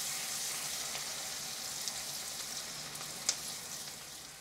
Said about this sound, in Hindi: प्याज को अच्छा सा सुनहरी होने तक फ्राई करेंगे हम।